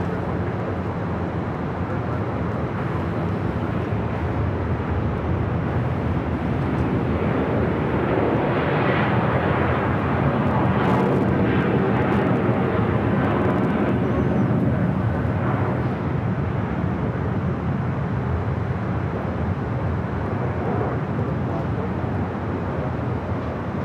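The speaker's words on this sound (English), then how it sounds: "All right, Cathay Pacific, flight 885, heading to Hong Kong. Next takeoff on the south side." A Cathay Pacific passenger jet bound for Hong Kong takes off on the south side runways at LAX, a steady roar that swells to a loud peak midway and then slowly recedes.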